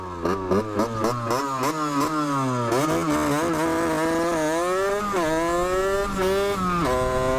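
Close, loud motorcycle engine just out of break-in, revving hard with rising pitch through repeated acceleration, a few quick blips at the start, then steady climbing revs under brief talk.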